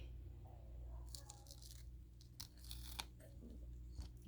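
Cooking scissors snip hydroponic herbs from an Aero Garden in a few quick, faint, crisp cuts close to the microphone, over a low steady background hum.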